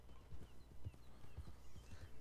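Horse hooves clip-clop steadily in Red Dead Redemption 2, a rhythmic, even trot of soft thuds set against a faint background hum.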